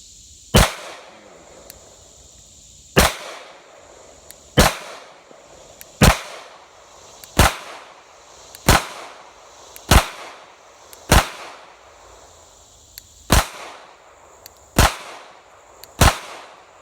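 Beretta pistol fired with MagTech 115 grain full metal jacket rounds, twelve sharp loud shots spaced about a second or so apart in a steady rhythm, each with a brief echoing decay outdoors.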